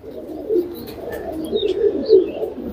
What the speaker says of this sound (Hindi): ये कबूतर वाकई में काबिल तारीफ़ हैं